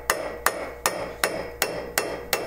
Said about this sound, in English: So I've got my centre punch, I'm going to put it right on the end. And I'm giving it a few whacks here.